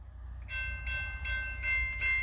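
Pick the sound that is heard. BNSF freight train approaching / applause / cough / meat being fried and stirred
BNSF freight train approaching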